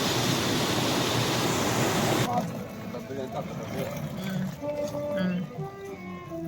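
Water rushes loudly through a small dam channel in Longyuan Park, Hunchun, a dense roaring wash for about two seconds before it drops to a quieter background with people talking.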